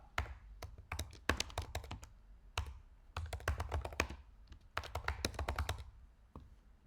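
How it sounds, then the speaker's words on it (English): Fingers type on a computer keyboard in bursts of rapid, crisp key clicks separated by short pauses, close and clear with no talking. "all you have to do is type."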